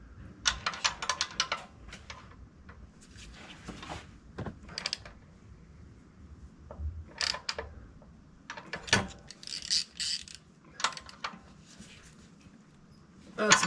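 A ratchet turns a bolt on a Mercedes M276 engine during PCV replacement work, giving bursts of close, sharp clicking that start and stop irregularly, with quieter handling noises between the bursts.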